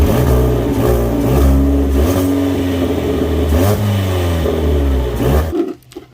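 A Ford Fiesta engine runs loud and close with a big exhaust leak at the resonator, rumbling and revving with rising and falling pitch, then cutting off abruptly near the end.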